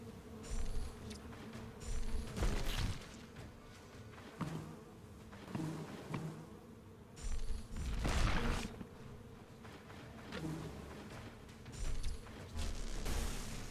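Bees buzz in Stoneshard in repeated close drones that swell and fade, broken by thumps of combat hits throughout.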